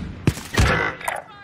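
A few sharp gunshots in a Warzone match, two heavy bursts followed by lighter distant pops, with a player's voice talking over them.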